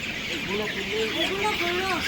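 Sonali hybrid chickens cluck and squawk in a close, crowded flock as they are pushed to one side of the shed for beak trimming, with overlapping calls and muffled voices in the background.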